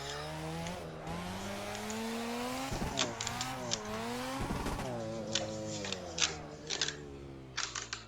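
A Mazda RX7 fitted with an SR20 engine in a driving video game revs and shifts repeatedly, engine pitch rising and falling, with sharp tire squeals and clicks scattered through the steady mechanical drone.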